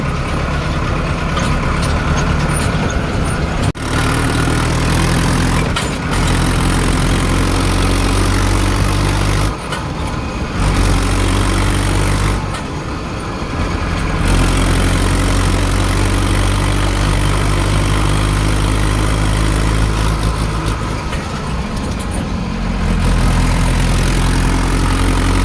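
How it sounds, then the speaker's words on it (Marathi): Farm tractor engine running on the way to a poultry shed, a loud continuous diesel rumble close by with a few brief dips and surges in revs. "चाललोय घेतलं बघा ट्रॅक्टर, चाललोय पोल्ट्रीकडं."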